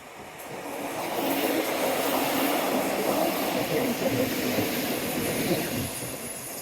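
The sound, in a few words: train passing along Dawlish seawall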